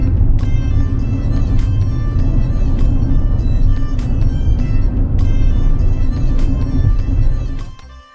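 Vehicles crawl through a heavy jam on a highway, several kilometres long: a dense, continuous engine rumble with scattered horn blasts, which thins and fades near the end.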